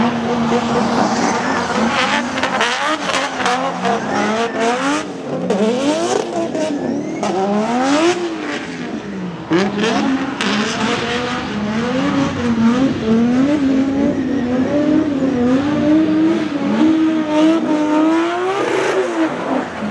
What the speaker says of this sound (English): Now let's check out your race car, your A86